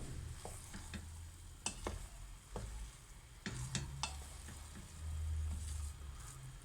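Buttery strained bulgur pilaf with softened noodles stirred in a pot, a steady low sizzle under scraping spoon strokes and clinks against the pot, close and alone.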